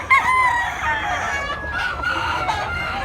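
A big yellow-legged Bulik stag rooster of Maclean bloodline crows close by. One strong, drawn-out cock-a-doodle-doo call rises and wavers, with some softer clucking and faint background noise.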